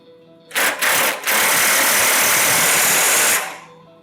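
A lower nut on a SnowDogg straight blade snow plow assembly is run tight with a power tool, starting with two short bursts and then a loud, steady, close whirring drone for about two seconds before stopping.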